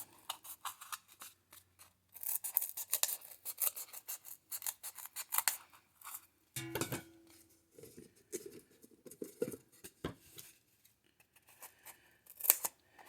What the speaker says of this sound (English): I'm just gonna trim just a little bit off the edges.